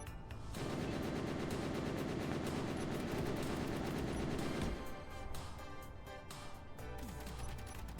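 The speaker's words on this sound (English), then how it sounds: "Just hearing all of the gunfire suddenly go off in the distance." Rapid bursts of distant automatic gunfire from the Space Engineers video game rattle on steadily for several seconds, then thin out into scattered shots, with no voices over them.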